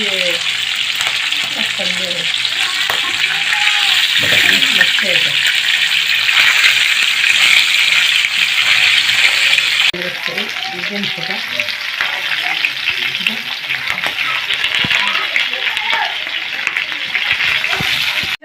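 Chicken fries in a pan with a loud, constant sizzle and crackle, punctuated by occasional stirring clatter, while a person talks over it.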